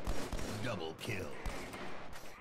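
Rapid gunfire from a shooter video game comes in loud, dense bursts through the whole stretch, with voices talking over it.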